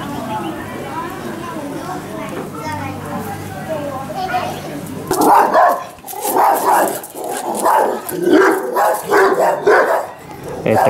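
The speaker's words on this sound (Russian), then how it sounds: "Да, собак здесь явно много." Several dogs bark on an evening street in Lijiang, China. After a murmur of background sound, loud, close, repeated barks burst out in an irregular volley that continues to the end.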